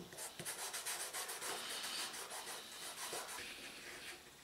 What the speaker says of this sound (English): so I decided to use some sandpaper to give it more grip and texture.